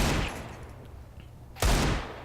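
Gunshots in a Black Ops 3 match, a burst of fire at the start fading into a quieter stretch, then another loud sharp crack and rumble near the end.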